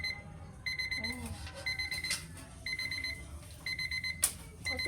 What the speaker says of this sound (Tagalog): Patayin ko muna yung timer.